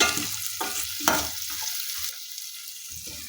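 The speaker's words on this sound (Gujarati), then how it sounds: "આવી રીતે હલાવતા રહેવાનું છે અને સરસ સાંકળી લેવાની છે ચણાની દાળને" Chana dal frying with garlic and curry leaves in a hot tempering for a bitter gourd and capsicum curry, giving a close, steady sizzle broken by repeated scraping stirs of a spoon in the pan, with no voices.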